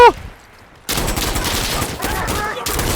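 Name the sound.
gunfire from M60E4 machine gun in video game Insurgency Sandstorm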